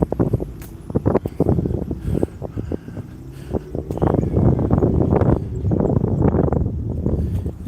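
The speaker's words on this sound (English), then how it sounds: "It is a bit windy." Wind on an evening street walk in Musashi Kosugi, Kawasaki, Japan, buffeting a handheld microphone in irregular low thumps and gusts. The rough blowing is close and fairly loud, growing denser in the second half.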